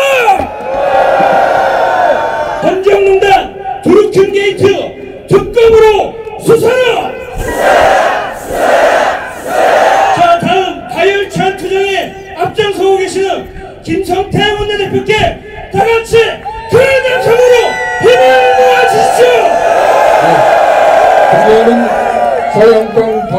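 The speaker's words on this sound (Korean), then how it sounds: "다시 한번 함성!" Gathered protesters at a South Korean political rally roar and chant together in repeated loud surges of shouting, with voices and cheering overlapping in waves for over twenty seconds.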